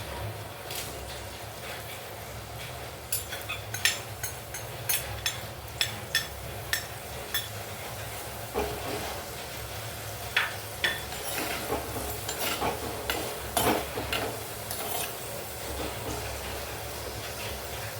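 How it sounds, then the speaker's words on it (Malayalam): Onion, garlic, green chili, curry leaves and salt fry in hot oil for rasam, giving a soft, continuous sizzle. Intermittent clinks and scrapes of a spoon against the pan sit on top. "എണ്ണ ചൂടായി കഴിയുമ്പോൾ എടുത്തു വെച്ചിരിക്കുന്ന ഉള്ളി, വെളുത്തുള്ളി, പച്ചമുളക്, വേപ്പില, ഉപ്പ് എന്നിവ ഇതിലേക്ക് ഇടാം."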